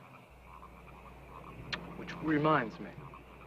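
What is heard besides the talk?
frogs croaking at night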